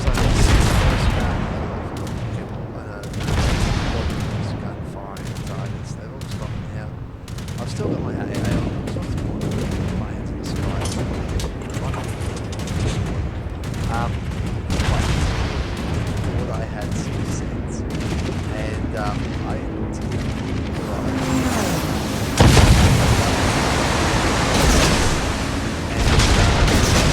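Naval guns firing in World of Warships, a dense, continuous barrage of booming gunfire and overlapping shell blasts, with one especially heavy boom late on; a voice talks intermittently underneath.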